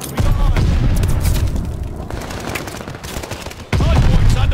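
Heavy gunfire around the hardpoint in Call of Duty: Vanguard, loud rapid bursts and booming shots with a lull in the middle before another close barrage.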